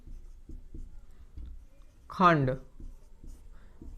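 Pen scratching on paper in short rhythmic strokes during a class 10 maths lesson, soft and close, with someone briefly speaking partway through.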